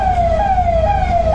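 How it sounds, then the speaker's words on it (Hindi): An electronic siren wails close by with a steady, slowly falling tone that repeats, over a low engine hum beside a Yamaha FZ 250 BS6 motorcycle. "सायरन बज रहा है"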